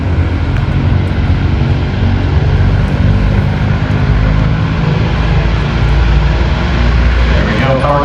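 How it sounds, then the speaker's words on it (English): Douglas DC-6 propeller airliner engines powering up at the EAA AirVenture Oshkosh airshow, a loud, continuous deep droning roar with a steady throb that fills the whole stretch. "power coming up now on the DC-6"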